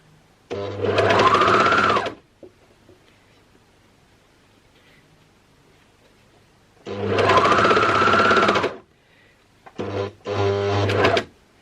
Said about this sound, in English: I am sewing all of those raw edges together